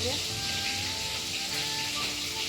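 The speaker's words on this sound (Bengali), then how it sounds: "আর এই যে মাছ ভাজা হচ্ছে" Fish frying in a pan gives a steady, close sizzle with a hissing spatter, and a voice talks over it throughout.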